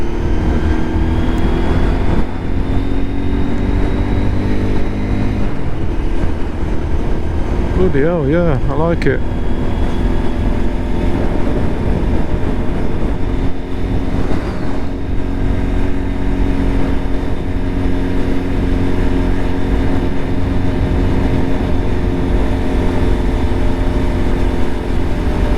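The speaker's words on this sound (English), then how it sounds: "All I know is with this exhaust on, it sounds better" Lexmoto LXR 125 motorcycle fitted with an aftermarket exhaust, its engine droning steadily throughout and briefly revving up and down near the middle, heard from the rider's position in wind and rain while someone talks over it.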